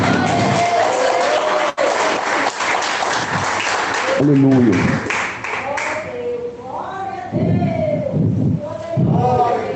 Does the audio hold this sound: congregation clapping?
yes